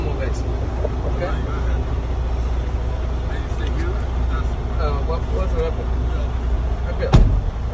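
A truck moving forward slowly during a service brake test, a steady low engine rumble throughout with a sharp clunk near the end, under someone talking.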